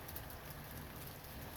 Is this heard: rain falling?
yes